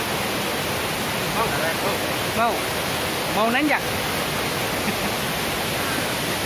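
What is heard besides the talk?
waterfall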